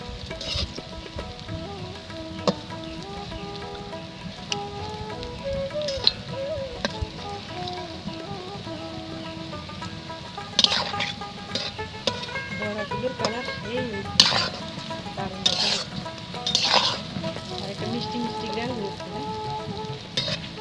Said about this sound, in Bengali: আবার বড়াগুলো উল্টিয়ে দেবো এভাবে উল্টিয়ে পাল্টিয়ে ভেজে নেব